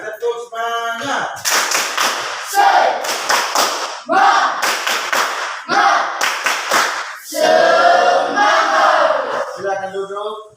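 A classroom of students stands and performs a rhythmic 'tepuk semangat' spirit clap, loud bursts of patterned group clapping in several phrases, with shouted chanting voices between and over the claps, ending as a voice speaks.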